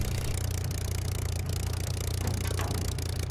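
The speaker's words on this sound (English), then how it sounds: "That's beautiful engine sound. It's all recorded from actual Spitfires." Piston aero engine of a Spitfire in a flight simulator game, recorded from real Spitfires: a steady, loud low drone with a rough rumbling texture, continuous throughout with no talk.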